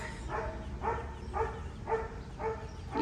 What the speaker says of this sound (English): It's just a dog driving by with its parents just barking its head off.